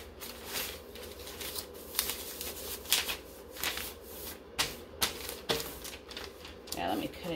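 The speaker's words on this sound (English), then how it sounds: "Might have to cut my paper down some." Paper cut down with scissors during sublimation of silky socks and a sports bra, a series of crisp snips and rustles in a steady irregular rhythm, close by against a constant machine hum.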